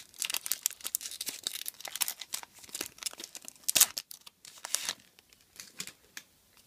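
Crinkling foil wrapper of a Pokémon Mega Lucario booster pack being torn open, a run of close, dry crackles and rips with one sharp tear in the middle before it tapers off.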